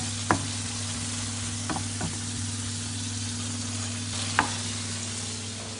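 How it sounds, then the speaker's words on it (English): Vegetables including mushrooms, celery, peppers and courgette sizzle steadily in a hot pan, with a constant crackling hiss and a few sharp pops and utensil scrapes over a low hum. "is sizzling away, there's lovely mushrooms in there."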